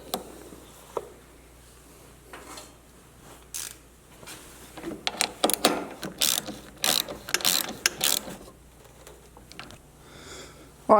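Ratchet clicks tighten a nut with a locking washer on alternator wiring in a Jeep TJ, bursts of quick close pawl clicking in uneven runs after a few quieter handling knocks.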